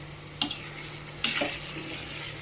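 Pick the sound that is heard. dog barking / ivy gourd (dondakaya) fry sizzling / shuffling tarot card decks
ivy gourd (dondakaya) fry sizzling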